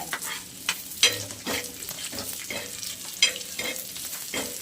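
Spices and ingredients frying in a pan while being stirred, with a steady sizzle broken by clattering scrapes of a utensil against the pan, close and fairly loud, with no voices.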